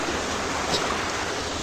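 Rani Khola river near Chatara flowing at a swimming spot, a steady close rush of water filling the short moment without pause.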